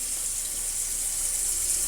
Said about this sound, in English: fill your sink with cold water, submerge your turkey